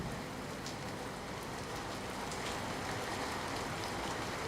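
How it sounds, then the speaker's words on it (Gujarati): Heavy downpour in Savarkundla taluka, Amreli, a steady dense roar of rain with no break throughout. "અમરેલીના સાવરકુંડલા તાલુકામાં ધોધમાર વરસાદ છે"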